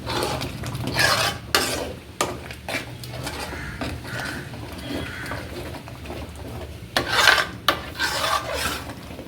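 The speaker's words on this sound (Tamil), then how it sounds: "இது இன்னும் கொஞ்சம் நல்லா வதங்கட்டும்." A spoon scrapes and stirs through thick masala sautéing in a pan, with rasping metal strokes and occasional louder clanks, close up and without talk.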